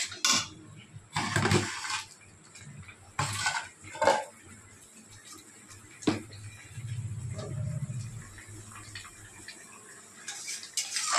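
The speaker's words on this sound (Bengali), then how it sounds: "তার মধ্যে এর মধ্যে হলুদ অ্যাড করবো। ভালো করে মশলাটা কষিয়ে নেব।" A spoon scrapes and clinks in a pan while a spice masala of onion, ginger and chili paste with turmeric and salt is stir-fried for a fish curry, producing intermittent close metallic clatter with quiet gaps between strokes.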